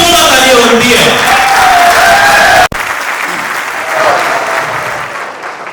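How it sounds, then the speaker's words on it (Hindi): An audience at a stage show claps loudly and continuously, a dense burst of applause that breaks off briefly midway and then resumes, with some crowd noise. "उनके लिए जोरदार तालियां बनती है।"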